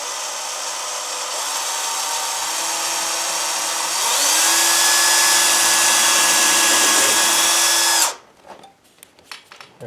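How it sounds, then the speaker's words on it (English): Power drill boring a hole for a window blind bracket in a window frame, a loud, close, sustained motor whine that steps up in pitch midway, then stops abruptly, leaving a few faint knocks and handling sounds. "now we're going to drill that second hole right up here"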